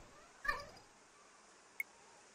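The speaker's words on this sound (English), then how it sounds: "Not sure you can hear the cat, but there's a cat on my lap now." A cat on a person's lap gives one short, quiet meow, followed by a faint, brief squeak over a low background hush.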